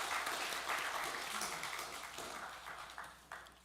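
A church congregation applauds during a Palm Sunday service, giving a warm, even wash of clapping that fades gradually, with a few sharper claps standing out near the end.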